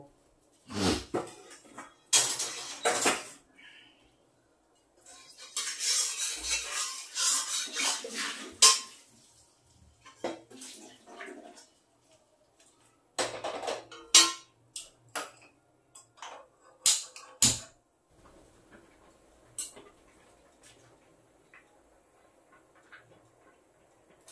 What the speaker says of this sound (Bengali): তা আমি এখন এটাকে ফোড়ন দিয়ে নেব